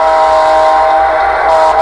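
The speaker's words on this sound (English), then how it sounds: "we're going to blow our whistle" A model train locomotive whistle from a Blunami sound decoder sounds loud and steady as one continuous blast lasting about two seconds, with a faint mechanical rumble underneath.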